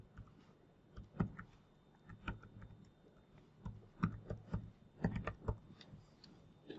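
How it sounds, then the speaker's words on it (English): Someone types an email address on a computer keyboard in a quiet room, with scattered soft key clicks in small irregular bursts and short pauses between. "So I'm going to type here."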